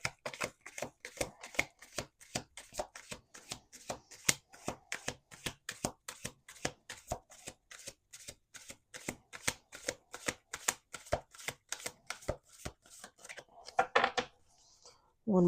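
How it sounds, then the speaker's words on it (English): A deck of playing cards being shuffled over and over, dense rapid riffles in quick bursts, close and crisp, with brief pauses between shuffles. "Let's do two more shuffles."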